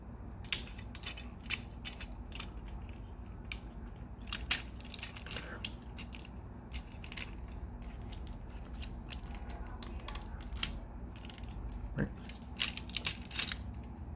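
Plastic Masterpiece MP-17 Prowl Transformer toy being converted by hand, with scattered sharp clicks, snaps and ratcheting joint sounds over a low steady background hum, fairly quiet and close.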